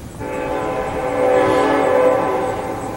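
A passing train blowing its horn in town: one loud, steady multi-tone blast lasting nearly three seconds over a continuous rumble of rolling wheels, close by and without any talking.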